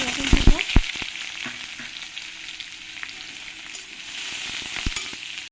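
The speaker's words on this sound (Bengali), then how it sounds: "এর মধ্যেও দিয়ে দেব আমি এই রসুনটাকে থেতে করে নিয়েছি" Crushed garlic sizzles and crackles steadily in hot oil in a pan while being stirred for a Bengali taro-leaf greens dish, with a few sharp spoon clinks on the pan near the start, close and loud, no voices.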